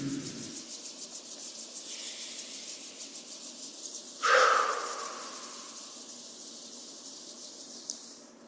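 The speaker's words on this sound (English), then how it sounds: "Rub the palms." Palms rubbed together during a gentle movement and breathing routine, a soft steady swishing friction that swells once into a louder brief rub before fading back to a quiet hiss.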